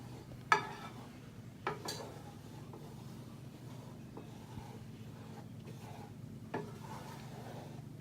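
Scrambled eggs cooking in a pan for breakfast, stirred with a utensil: soft scraping and faint sizzle underneath, punctuated by a few sharper knocks of the utensil against the pan.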